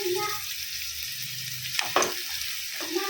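Cloves and cinnamon hit hot oil with a steady sizzle, interrupted around the middle by a couple of quick scraping and clinking sounds from a utensil.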